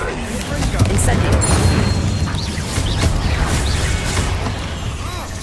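Incendio fire spell cast in Hogwarts Legacy combat in the catacombs, a loud booming burst with crackling impacts layered over dense battle noise and a speaking voice.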